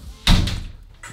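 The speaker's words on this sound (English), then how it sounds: "I'm going to reach for this, and I'm going to shut the door." A door inside a home is pushed shut by a wheelchair user, one close, loud thud with a short rattle as it settles, followed by a faint knock a moment later.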